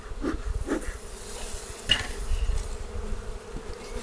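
Honeybees at an open beehive give a low, steady buzz that rises as individual bees pass close. Faint clinks from handling the hive are heard, and nobody speaks.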